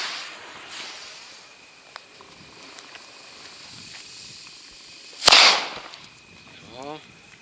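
A single sharp firecracker bang cracks out after several quiet seconds, followed by a brief fading rattle and a short trailing noise, a relatively pleasant bang.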